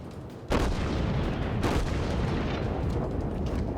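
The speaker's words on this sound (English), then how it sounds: "So I'm gonna fire 1 or 2 shots at this guy." Battleship main guns firing in the World of Warships video game, a deep booming salvo that erupts suddenly and rolls on as a dense, loud rumble, followed by a second heavy blast.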